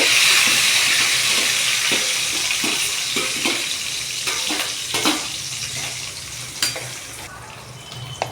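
Onions and green chillies fry with cinnamon and cloves in hot oil, a loud, steady hiss close by with scattered clicks and pops as a spoon moves the pan, fading slightly toward the end.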